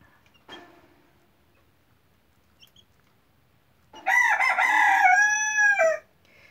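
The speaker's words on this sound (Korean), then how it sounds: "지금 백봉이 저렇게 우는 거예요." A white silkie (baekbong ogolgye) rooster crows once nearby, a loud, drawn-out call of about two seconds following a quiet stretch with a faint earlier knock.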